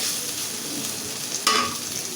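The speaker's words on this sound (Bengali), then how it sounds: "আমার আদা রসুন কিন্তু সুন্দর করে চিংড়ি মাছের সাথে ভাজা ভাজা হয়ে গেছে" Ginger and garlic fry with prawns in a pan in a constant loud sizzle, broken by one sharp scrape of the spatula partway through.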